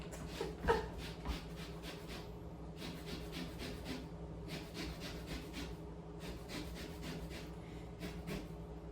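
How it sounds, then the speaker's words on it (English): A lemon is grated against a zester for lemon bars, producing repeated short rasping strokes in bursts with brief pauses between, close and fairly quiet. "I'm going to go ahead and zest this 3rd lemon that I have ready"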